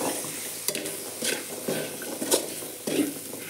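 Boiled chickpeas tossed into a hot pan over a low flame and stirred, giving a steady close sizzle broken by several scraping stirs and light clinks of the spoon against the pan.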